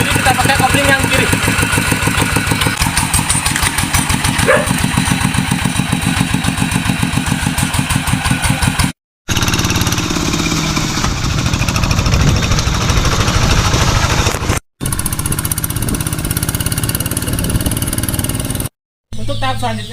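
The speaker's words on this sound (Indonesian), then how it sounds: "Sekarang kita akan melakukan tes apakah si traktor ini mau berjalan atau tidak" A two-wheel hand tractor's engine runs during a driving test. It puts out a loud, rapid, even chugging that cuts out briefly a few times, with a person talking over it.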